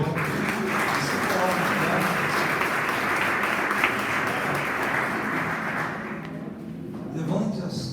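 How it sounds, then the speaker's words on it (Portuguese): Church congregation giving a round of applause during a Portuguese-language worship service, loud sustained clapping mixed with crowd voices that dips briefly near the end before picking up again. "Dá mais uma salva de palmas ao Senhor."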